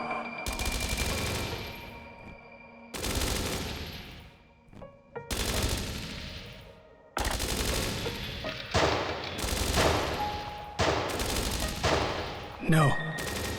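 Loud gunfire crackles during an ambush in the video game Dreams of Another. It comes in about half a dozen sharp, sustained bursts separated by brief pauses, with some voices in the mix.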